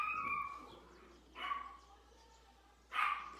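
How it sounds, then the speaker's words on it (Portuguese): A pet dog named Charlotte barks three times at people passing in the street, spaced about a second and a half apart. The barks are fairly faint and distant, with quiet in between. "para de latir pros batatenses"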